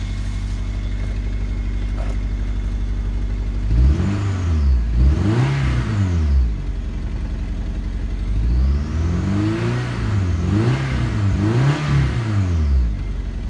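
A 2001 Honda CR-V 2.0 liter engine, automatic, all-wheel drive, 79,000 miles, idles steadily, then revs up twice in quick bursts, rises again in a second set of revs, and settles back to idle.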